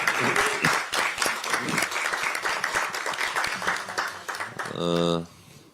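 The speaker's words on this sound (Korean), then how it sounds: "박수 한번 치고 시작하죠." Audience at a Korean political party meeting breaking into applause, dense clapping mixed with voices that fades out near the end, followed by a brief tone.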